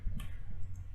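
A single sharp mouse click in CAD software, heard close and faint over a low steady hum, with no talk.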